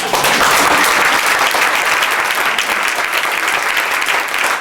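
An assembled crowd at a church prayer gathering in a hotel gives loud, continuous applause, thick overlapping clapping that holds at full strength from start to finish without speech.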